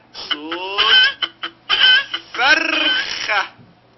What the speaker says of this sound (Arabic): صوت الفرخة